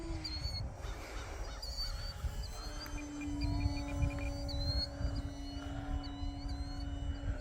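Geese or other fowl give repeated honking calls across the scene while an E-flite SE5a radio-controlled WWI biplane model drones steadily overhead, the engine hum continuing under the birds throughout.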